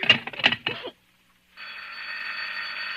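A short burst of vocal sounds in a classic radio thriller drama, a moment of silence, then a steady electronic telephone ring begins and continues.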